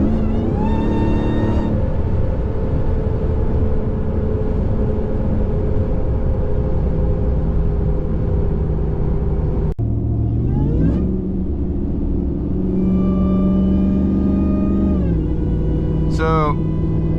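A Ram TRX truck with its mid muffler deleted rumbles loudly and steadily, with a whining tone that rises and falls as the engine revs, while a person talks over it.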